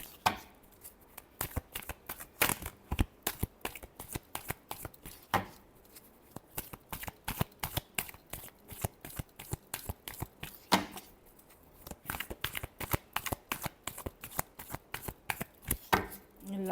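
Tarot cards are shuffled again and again in quick riffling bursts, crisp and close, with short pauses between rounds of rapid flicking.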